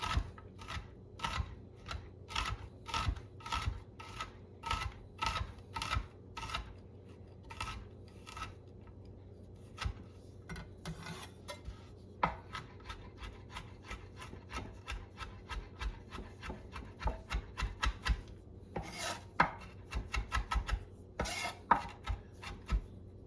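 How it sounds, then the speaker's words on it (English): A knife minces garlic sprinkled with salt on a board, making rapid, regular chopping taps near and clear, with short pauses and uneven bursts of quicker strokes. "if you add a little bit of salt to it as you are mincing, make it so it does not stick to your knife"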